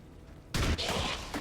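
A soldier in the turn-based strategy game XCOM 2 fires at an enemy, a sudden loud burst of gunfire after a quiet moment, ringing out briefly and then tailing off.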